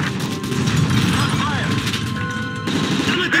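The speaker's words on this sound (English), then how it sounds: "That's gunfire!" Gunfire in the Call of Duty Modern Warfare 3 video game, a dense, sustained barrage of shots with crashes, mixed loud with shouting voices throughout.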